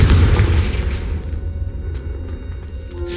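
A Confringo fire spell blast in the Hogwarts Legacy game, a deep booming burst at the start that fades into a rumbling tail, followed by faint crackles.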